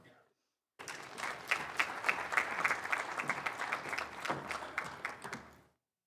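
An audience at a University of South Carolina College of Nursing stethoscope and commitment ceremony breaks into steady, sustained applause after a brief quiet moment, many hands clapping together for about five seconds before it fades out.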